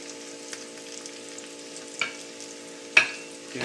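Carrots and bok choy frying in a pan give a soft, steady sizzle close by, broken by two sharper clatters or stirring knocks, with no one talking.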